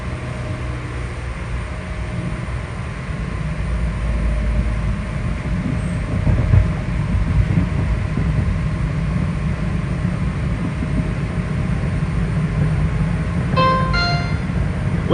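A historic PATCO train rolls past Franklin Square Station, a loud, steady rumble of wheels on rails that holds for the whole stretch, with a brief high metallic squeal near the end.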